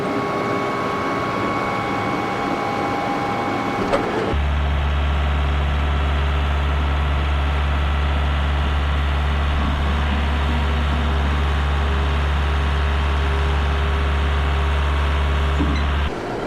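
Yanmar YT359 compact tractor diesel engine held at 2200 RPM while the loader raises and lowers, a loud steady low drone with a sharp shift in tone partway through as the hydraulics take load, running alone without talk.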